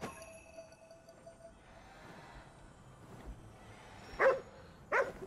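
A dog in the video game Ghostwire: Tokyo gives two short barks near the end, after a stretch of quiet ambient game sound.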